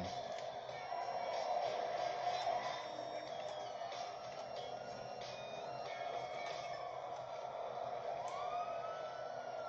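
Police sirens wail in the video game GTA 5, faint and rising and falling over a low rumble of game traffic, with no talking.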